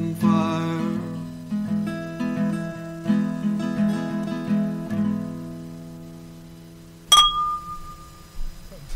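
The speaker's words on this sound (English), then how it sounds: "We sound so classy when we're clinking glasses." Two wine glasses clink once with a bright ringing ding that lingers briefly, following several seconds of a sustained, tonal, musical sound; the glass chime stands out clearly and alone.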